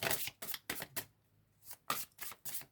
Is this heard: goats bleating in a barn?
no